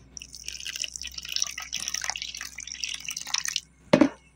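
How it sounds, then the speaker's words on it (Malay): Water trickling steadily into cucur pisang batter in a home kitchen, a soft continuous pour lasting several seconds before stopping, then a brief louder knock at the end. "Masukkan air"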